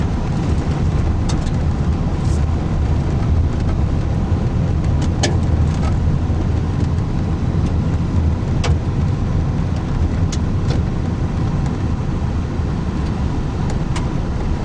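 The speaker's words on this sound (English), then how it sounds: "I'm driving through Ashby right now." A car drives through Ashby with a steady, loud road and engine rumble heard from inside, constant throughout with only faint ticks and clicks above it.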